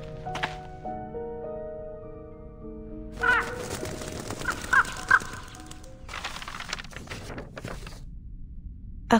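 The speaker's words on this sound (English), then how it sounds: "A crow?" A crow caws repeatedly in the video game Reverse: 1999. Several sharp caws come in irregular bursts after a short passage of sustained game music.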